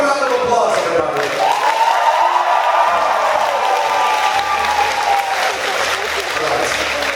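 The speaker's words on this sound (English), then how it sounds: "Give a round of applause, everybody." Concert audience applauding and cheering at a live show in Moscow, a dense, loud wash of clapping and crowd noise that holds steady for about seven seconds.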